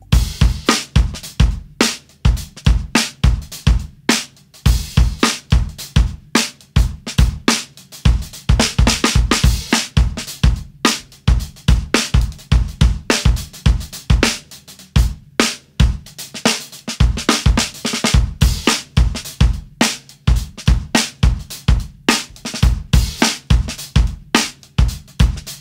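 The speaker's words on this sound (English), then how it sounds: "But there are none of my snares that can do exactly what the piccolo snare does." A piccolo snare drum is struck in a long, dense run of crisp, sharp hits with grooving rhythms and occasional rolls, loud and close throughout with no voices.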